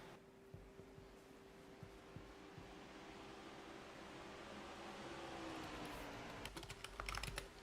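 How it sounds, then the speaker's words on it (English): Someone types on a computer keyboard, with soft scattered key clicks and then a quicker burst of tapping at the end over a low, steady background hum. "I'm just typing that out, getting that ready for when the stage ends."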